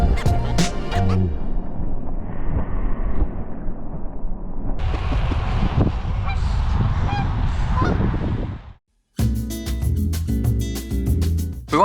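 A goose honks loudly several times near a bike path along a highway, a short burst of calls followed by rumbling movement and noise.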